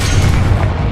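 A Confringo spell blast in the video game Hogwarts Legacy, a loud, sustained deep boom rumbling for about a second with no voices.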